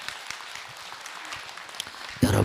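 Scattered, fairly faint clapping from an audience at a Buddhist dharma talk, uneven and sparse, ending in a sudden louder burst of sound at the close.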